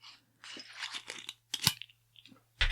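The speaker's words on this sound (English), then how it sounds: "So I'm going to give this bottle an open." Screw-top cap twisted off a wine bottle: a quick series of crisp cracking, crinkling snaps, close and fairly quiet, with a sharp final click near the end.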